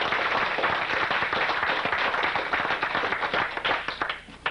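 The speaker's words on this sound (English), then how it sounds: "I think that deserves an extra round of applause." Office group applauding a salesperson's first month of sales, a dense burst of clapping from a small crowd close by that holds steady, then thins out toward the end.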